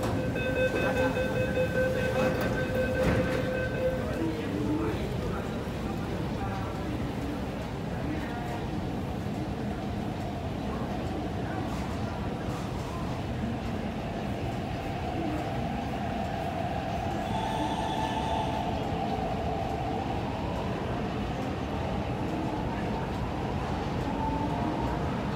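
A metro train rumbles steadily into Hung Hom Station in Hong Kong, its wheels and motors droning, with a brief chime at the start and a rising whine near the end.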